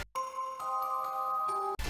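Ballora's music box melody from the FNAF video game plays alone, a clear chiming tune of sustained bell-like notes lasting under two seconds.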